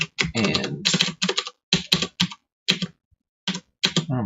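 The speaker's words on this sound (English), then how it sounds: "oh my gosh, this new keyboard" Bursts of rapid clicking keystrokes on a new computer keyboard, close and fairly loud, coming in short irregular runs separated by brief pauses, with no talking.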